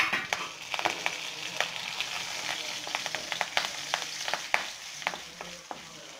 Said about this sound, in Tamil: கொஞ்சம் கருவேப்பிலை போடுறாங்க.